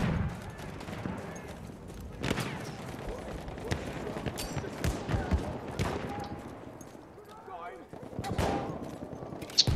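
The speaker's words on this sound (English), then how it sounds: "Again with the shotgun" Gunfire in Battlefield 1, likely shotgun blasts, cracks out in sharp bursts scattered through the stretch, some near and some distant, amid a busy mix of in-game battle noise.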